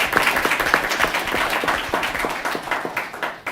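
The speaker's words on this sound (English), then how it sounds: "For that, we need to clap, y'all." An audience at a school board meeting claps steadily and fairly loudly, with many hands creating a dense patter that fades a little toward the end.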